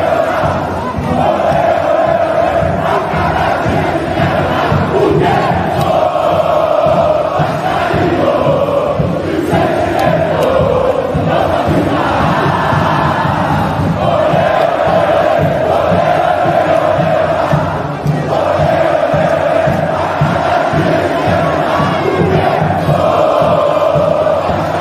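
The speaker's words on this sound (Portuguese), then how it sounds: "Veja vídeo do Juninho no meio da torcida mais linda do Brasil." Vasco football supporters chant in a packed stadium stand, a dense, steady roar of massed voices with a sung melody rising and falling throughout, loud and continuous with no pauses.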